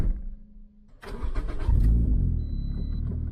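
A turbo Toyota Corolla's engine cranks and catches after a short click, then settles into a loud, close rumbling idle with a brief rev.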